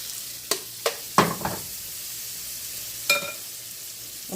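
Turkey sausage frying in a pan with peppers and onions gives a soft, steady sizzle, broken by a few sharp scrapes and clatters of stirring.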